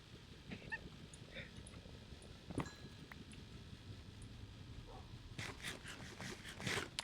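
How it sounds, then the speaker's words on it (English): A hellhound in a video game barks faintly, with a few scattered yips and a brighter burst near the end, over a steady background murmur. "I'm hearing barking."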